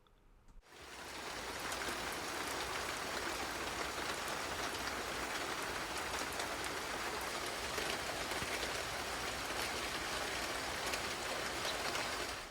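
Steady rain falling outside a front porch, a dense even hiss that starts abruptly and holds at constant loudness throughout, with no voices.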